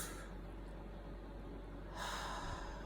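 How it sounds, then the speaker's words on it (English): A single quick inhale through the nose opens a breathing exercise, a close, breathy rush of air followed by a brief lull and a second airy swell. "we're just going to begin by breathing in"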